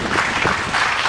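A church youth gathering crowd keeps up applause, a dense continuous wash of clapping filling the brief moment, loud and close.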